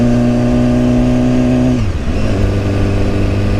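A 2015 BMW S1000RR sport motorcycle, a 200-horsepower inline-four, holds a loud steady high rev, then drops sharply as it shifts and climbs again into a continuous roar, close and alone with no talk.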